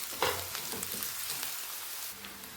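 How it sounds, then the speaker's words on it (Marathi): Finely chopped onion sautéing in a pan with whole spices, a soft, steady crackling sizzle with faint stirring scrapes, close by and fairly quiet. "आपण यामध्ये आपण बारीक चिरलेला कांदा घालत आहोत। कांदा व्यवस्थित परतून घ्यायचा आहे।"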